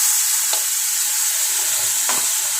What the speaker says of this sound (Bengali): এই লঙ্কা মিক্সার আর আদা মিক্সারটা এই যে তেলের উপরে ঢেলে দিলাম